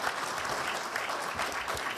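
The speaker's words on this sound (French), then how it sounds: "Les temps d'applaudissements sont décomptés de ton temps" Sustained audience applause fills a conference hall at a colloquium on Israeli policy, steady and dense for the whole stretch with no voices over it.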